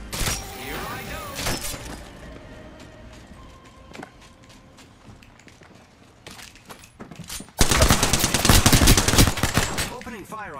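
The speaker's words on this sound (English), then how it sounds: "Opening fire on the enemy." Bursts of automatic gunfire in the battle game Apex Legends, sparse shots early on, then a loud sustained volley near the end, with speech and game effects underneath.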